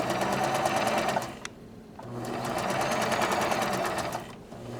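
A sewing machine stitching a zipper pocket runs in two loud, close bursts of rapid, even needle clatter, separated by a brief pause.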